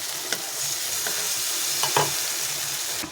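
Spices sautéing in a pan over a gas flame, a steady close hiss of frying broken by a few scraping strokes of a stirring spatula, with no voices.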